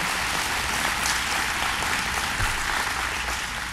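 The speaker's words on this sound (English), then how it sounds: "Let's give him a big round of applause." An audience at a Rochester data science funding announcement applauds steadily, dense clapping holding at an even, loud level throughout without voices.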